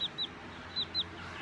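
Newly hatched chicks give four short, high peeps in quick pairs, close and clear over a quiet background, with no talk.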